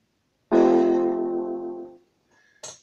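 A single piano chord from an easy song, struck once and ringing for about a second and a half as it fades, followed by a faint click and a brief noise.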